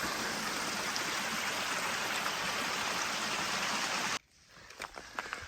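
Mountain stream water falling down rocks on a hiking trail, a loud steady broadband rush that cuts off abruptly near the end, leaving faint rustling and clicks.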